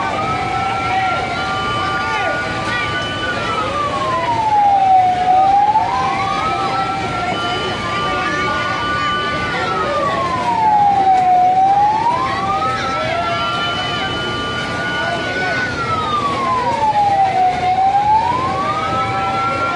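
Fire truck sirens wail in slow rising and falling cycles at a residential fire in Taguig, loud and nearby, repeating three times over a busy background.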